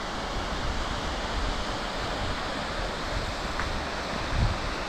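Steady rushing water of a small waterfall near Mussoorie, Uttarakhand, India, pours continuously, a broad even roar like a small cascade, with no voices.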